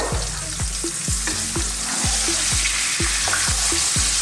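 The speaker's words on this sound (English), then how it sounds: "There you go, there's our onions." Onions fry in oil over medium-high heat for a Greek chicken and aubergine stew, a loud, dense sizzle cut by regular stirring strokes about twice a second, with no talking.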